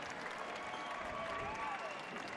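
Crowd of over 2,000 at a women's college basketball game between Utah State and Boise State applauding and cheering, a sustained, dense roar of clapping with faint whistles, steady throughout.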